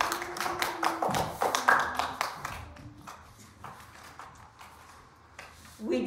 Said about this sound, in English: Yes, we can clap for ourselves.